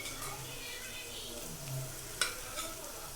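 Fried eggs stirred into egg biryani masala in a pan, with a soft continuous sizzle and scraping spoon strokes close by, one sharper clink of utensil on the pan, a voice faintly underneath.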